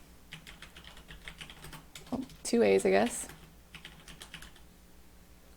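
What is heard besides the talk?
typing on a computer keyboard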